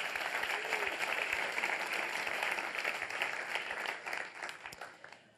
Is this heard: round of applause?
yes